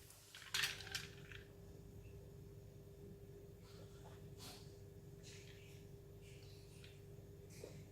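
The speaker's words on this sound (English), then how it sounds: "before we drink, we have to stir" A spoon clinks sharply against a glass of carrot juice once, close and clear, followed by a few faint light taps over a quiet room hum.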